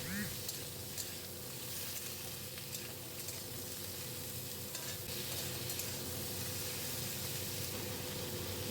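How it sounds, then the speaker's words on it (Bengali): Green beans and winter vegetables with spinach stirred in a frying pan, a continuous close sizzle and hiss with soft scraping of the stirring spoon. "এবার একটু নাড়াচাড়া করে আর বাকি সবজিগুলো আমি এর মধ্যে দিয়ে দেবো"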